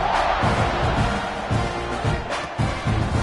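Football stadium crowd roaring steadily during a college game between Utah State and its opponent as the kickoff unit takes the field, a dense, loud wash of cheering with pulsing swells, no clear talk on top.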